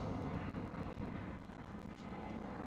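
Croatia Airlines airliner at Schiphol Airport in Amsterdam, a steady, broad jet roar with some wind buffeting, continuous throughout with no voices.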